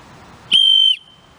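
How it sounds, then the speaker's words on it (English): A single loud, piercing blast from a high-pitched survival whistle holds steady for about half a second, then cuts off, leaving a faint hiss behind. "It's a very, very high-pitched whistle."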